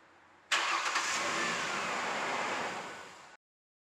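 A car engine cranks over during a voltage drop test on the starting circuit, a loud steady starter churn lasting close to three seconds and then cutting off abruptly.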